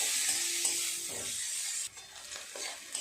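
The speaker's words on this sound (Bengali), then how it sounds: "পেঁয়াজ কুচি, পেঁয়াজটা নেড়ে চেড়ে ভালো করে ভেজে নেব।" Chopped onions stirred and fried in a pan with whole spices such as cinnamon, cloves and cardamom, a steady close sizzle with spatula scrapes running throughout, for a Bengali fish curry.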